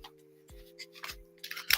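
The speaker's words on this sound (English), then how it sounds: "I'm gonna shuffle again." Tarot cards being shuffled give sparse, crisp snaps and flicks that build into a quick, brighter riffle near the end, close and fairly quiet over a faint steady hum.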